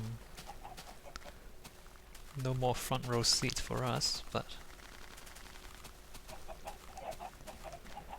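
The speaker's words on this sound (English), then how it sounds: "obviously the chickens are dying and they're getting cooked" Minecraft chickens cluck as they burn and cook in a fire in the video game, short clucks scattered beneath someone talking over them for most of the stretch.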